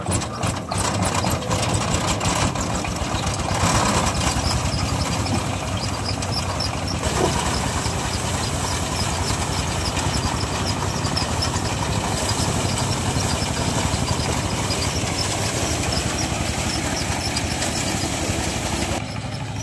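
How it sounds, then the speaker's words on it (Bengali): The engine of a paddy harvesting machine runs continuously and loudly outdoors during the rice harvest, a steady droning rumble with rattling mechanical clatter. "মেশিন স্টার্ট করবে এখন, তাই প্রস্তুতি নিচ্ছে ওরা। ওই যে শুরু হয়ে গেছে।"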